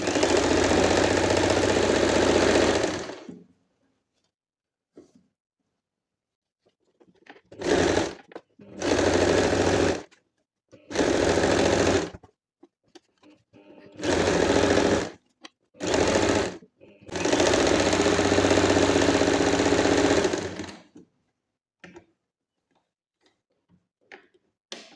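A sewing machine stitches elastic onto the waist of cotton summer pants. It gives loud, close mechanical runs of varying length, separated by stretches of near silence, with no voices.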